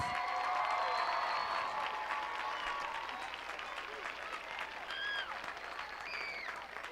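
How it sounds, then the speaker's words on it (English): Audience applause at a high school graduation ceremony, a broad sustained clapping from a large crowd that gradually fades, with a voice speaking over it near the end. "Let's give them a huge round of applause."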